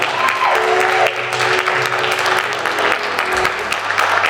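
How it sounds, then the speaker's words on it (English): Audience applause at a beauty pageant, a dense, steady burst of many hands clapping that fills the room and continues evenly from start to finish. "Let's give a round of applause for all the ladies one more time."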